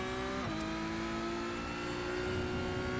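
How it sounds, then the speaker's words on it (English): A Porsche 911 GT3 Cup (992) race car engine in iRacing drones at steady high revs, a smooth sustained whine with a slight pitch shift early on, loud and continuous. "And this Porsche does sound nice."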